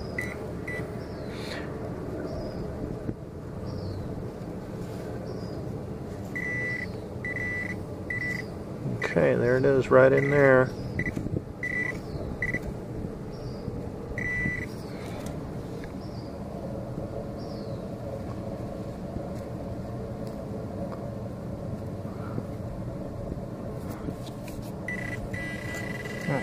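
Garrett AT Pro metal detector sounding a rising, warbling tone over a buried coin in local mountain ground, a brief burst of about two seconds midway, with someone talking throughout.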